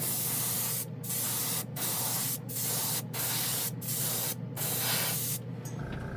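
Airbrush spraying Kaleido clear candy acrylic paint in seven steady hissing bursts, each about half a second to a second long, separated by short pauses, close and loud with no talking.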